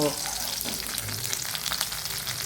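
Sardines coated in rava shallow-frying in oil over a moderate flame, a dense continuous crackling sizzle with small popping bursts throughout, close and steady, no voices.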